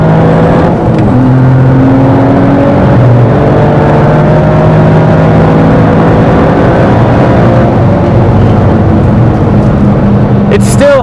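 A car with a rally-style chassis drives hard over a curb and accelerates, giving a loud, continuous engine drone with gear-like tonal steps beneath steady road and wind noise, while people talk inside.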